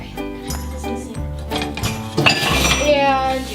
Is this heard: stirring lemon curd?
yes